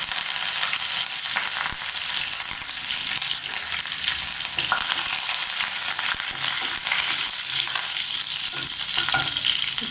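A bay leaf, two cloves, a little fennel and curry leaves crackle and sizzle in hot oil for mutton kuzhambu, a loud continuous fry broken by scraping stirs and small pops, with no voices.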